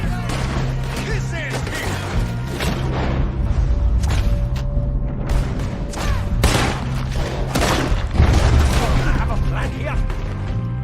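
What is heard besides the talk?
gunfire in video game Red Dead Redemption II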